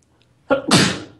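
A single loud, close sneeze: a short sharp intake followed by an explosive burst that trails off.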